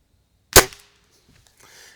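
A single sharp crack from a budget spring air rifle, close and loud, dying off quickly into near silence with faint handling noise afterward.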